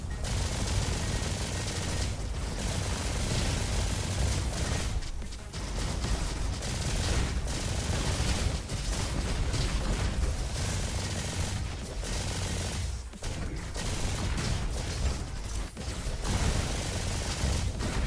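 A Valkyrie rifle fires in rapid sustained bursts in the shooter game Roboquest, dense and loud, with brief gaps between volleys.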